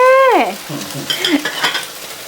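A basil omelette fries in hot oil in a pan, the sizzle opening with a brief gliding squeal and then crackling loudly under scattered utensil clinks.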